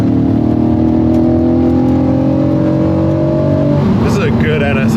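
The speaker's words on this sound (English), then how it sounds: "The motor sounds really nice." A Honda NSX sports car's engine drones steadily while driving, a loud sustained hum with rising tones; near the end the pitch shifts as it changes load.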